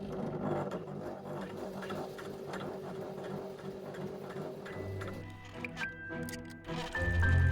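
A sewing machine stitching the front and back of a teddy bear's body together runs in a steady rapid rattle, slowing and pausing near the end as the fabric is turned.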